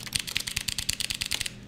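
Typewriter keys clacking in a quick, steady run of close, crisp strikes, with no voices.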